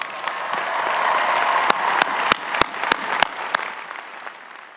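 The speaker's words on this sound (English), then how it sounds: "don't you think your family and friends deserve another big round of applause?" A graduation audience applauds, a dense sustained clapping from a large crowd close and loud, with a few sharp individual claps standing out before the applause fades.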